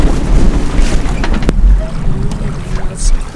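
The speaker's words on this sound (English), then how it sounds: "It's got 20 knot winds." Gusty 20-knot wind buffets the microphone with a heavy low rumble, mixed with water and sailboat noise off Nova Scotia, continuous and loud throughout.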